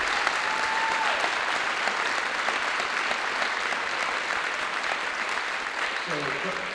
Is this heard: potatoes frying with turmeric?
no